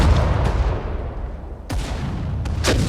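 Heavy gunfire and artillery boom across a World War II battlefield in the strategy game Sudden Strike 4. A few sharp cracks and thuds sound over a loud rumbling background.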